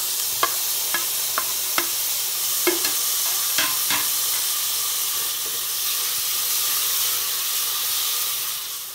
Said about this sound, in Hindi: ये देखिए टमाटर मैं भून रही हूँ